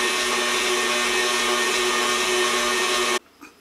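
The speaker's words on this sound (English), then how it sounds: "I'm going to continue whipping the two together" An electric mixer whips butter and peanut butter together for a Hershey's chocolate cake batter. It gives a steady, loud motor whir close by for about three seconds, then cuts off abruptly into near silence.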